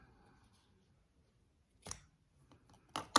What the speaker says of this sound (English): Okay, so we've got our two strings coming down like that. Okay, which we can trim them off.